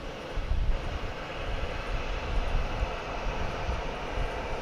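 A Boeing 737-800 airliner bound for San Antonio rumbles at DFW Airport, a steady, broad roar with deep low rumble that hangs at moderate distance for the whole stretch.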